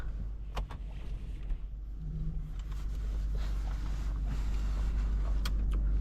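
A 2022 Mercedes-Benz G 550 pulling out onto the road, heard from inside the cabin, with a low steady engine rumble and road noise that grow slightly louder as it gets moving.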